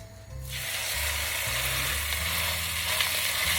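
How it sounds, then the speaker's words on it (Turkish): Lamb searing in olive oil for a tandır dish bursts into a loud, steady sizzle after a brief quiet start and keeps hissing close by. "birazcık zeytinyağı koyacağım. Ve her iki yüzeyini de mühürleyeceğim."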